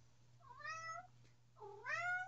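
A cat gives two distinct meows, the second louder and more drawn out, close by over a faint steady hum with no talking.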